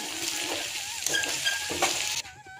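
Oil sizzles steadily as food fries in a pan, with a few soft stirring scrapes and clinks over the hiss before the sizzle dips and fades near the end.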